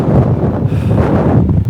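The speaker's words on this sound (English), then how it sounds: "God, this is windy." Strong wind sweeps across an open hillside above a river valley, a steady rushing roar buffeting the microphone without a pause and with no voices.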